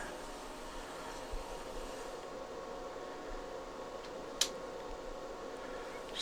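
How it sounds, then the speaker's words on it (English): A new Staines model locomotive runs on G-scale track, giving a steady, faint, low whirring rumble with a single sharp click partway through. "we're just going to go ahead and give our new Staines locomotive a quick test here"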